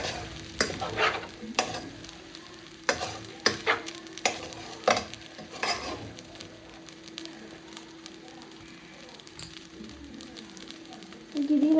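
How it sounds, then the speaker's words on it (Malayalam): Onion noodles stirred in a pan, a spatula scraping and clacking in a run of distinct strokes over a soft steady sizzle, close by, then fading to quiet frying. "നല്ല പക്കായിട്ട് നിങ്ങൾ ഇളക്കി കൊടുക്കാം."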